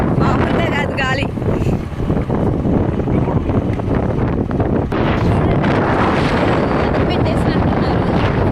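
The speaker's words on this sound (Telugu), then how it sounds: "ఫుల్ గాలి అయితే వస్తుంది, మామూలుగా కాదు గాలి." Strong wind sweeping across farm fields, a loud, continuous roar and buffeting against the microphone, with a voice speaking over it at moments.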